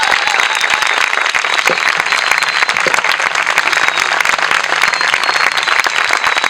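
Steady, dense applause from an audience at a national camp gathering in Argentina, loud and continuous throughout with no talk over it.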